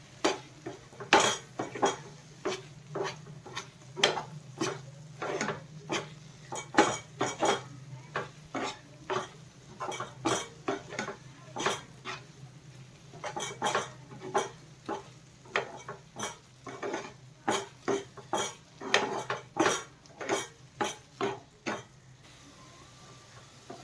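Steady metal spoon scraping and clacking against a pan while a ghee-laden coconut burfi mixture with cardamom is stirred and roasted, rhythmic strokes about one per second, close and clear over a faint low sizzle, no voices.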